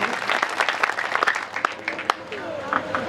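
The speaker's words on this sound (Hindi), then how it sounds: "आप सबका अगर आदेश हो तो जोरदार तालियों से स्वागत करें।" At a kavi sammelan poetry gathering, the audience claps in scattered, uneven bursts with distinct sharp hand claps standing out, mixed with crowd murmur and a voice speaking over it.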